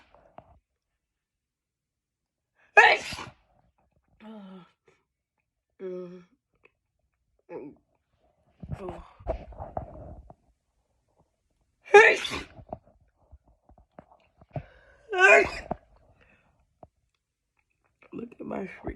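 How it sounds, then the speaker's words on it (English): Several wet, messy sneezes burst out near and loud, spaced across the stretch, with short bits of talking and breathy vocal sounds between them. "Cause these sneezes are messy."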